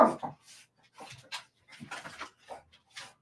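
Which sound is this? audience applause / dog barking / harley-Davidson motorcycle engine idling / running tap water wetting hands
dog barking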